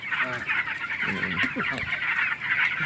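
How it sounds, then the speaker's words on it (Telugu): A dense crowd of broiler chickens in a farm shed clucks and cheeps continuously, with a few louder, nearby clucks standing out from the steady flock noise. "ఇవి కోళ్ళు ఇవి బాయిలర్ కోళ్ళు"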